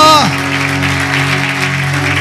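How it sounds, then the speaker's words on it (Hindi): A church congregation applauds loudly in praise during a Christmas service, a dense, sustained burst of close clapping that fills the room, with a voice overlapping at the start. "जोर से ताली बजाकर प्रभु की तारीफ करें।"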